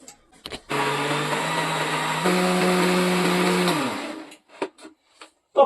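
An electric mixer grinder blending lemon leaves and aloe vera for homemade soap, a loud steady motor whine that rises in pitch midway and winds down after about three seconds, with brief thumps and clicks before and after.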